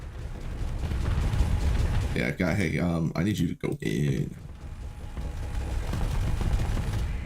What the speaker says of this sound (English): Ooh, you got cannons.